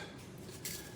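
Metal utensil stirring a garlic jalapeno rub in a discada pan, light continuous scraping and clinking through a short moment, close by with no voices.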